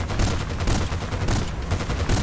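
Rapid bursts of gunfire in Battlefield: Bad Company 2 crackle continuously, dense and loud, with booming low-end thumps throughout.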